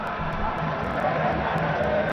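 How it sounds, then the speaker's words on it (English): At a Zimbabwe cricket match, a crowd cheers and chatters in a dense, steady roar that fills the whole stretch, with a few sharper shouts over it. "Cheering, enjoying the cricket."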